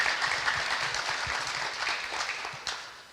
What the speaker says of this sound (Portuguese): Você podia aplaudir o Senhor por isso